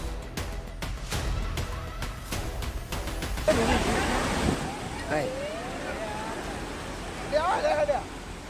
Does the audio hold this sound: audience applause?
no